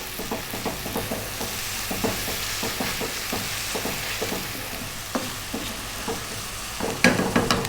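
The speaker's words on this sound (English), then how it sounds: "And stirring all the time now." A spoon scrapes steadily around a pan as chicken curry masala with fresh chili is stirred, and the food sizzles and fries underneath in a continuous hiss. The scrapes come in rhythmic strokes with no speech.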